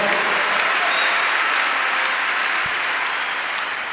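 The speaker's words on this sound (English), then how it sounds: "Give Jesus a wonderful clap offering." A church congregation at a live ministry service gives sustained, loud applause, a thick, continuous roar of many clapping hands that holds steady throughout.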